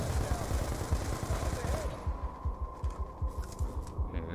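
Rapid automatic gunfire from Call of Duty: Black Ops 2 rattles in a steady burst of evenly spaced shots, loud and close over game ambience, with a player's voice briefly heard.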